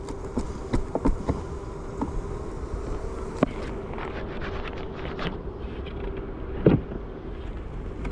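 Honeybees buzz in a steady, dense drone from an open hive box on a farm during an inspection, with occasional close bees passing the microphone and light creaks from the frames.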